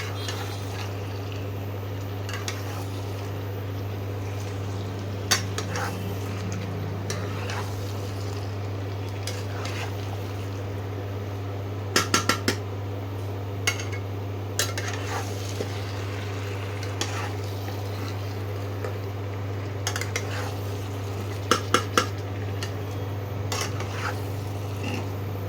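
Meat is stirred and seared in a pan over high heat, with a low steady hum beneath scattered scrapes and clinks of a utensil against the pan and a faint sizzle.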